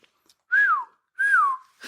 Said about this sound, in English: That's how you actually whistle.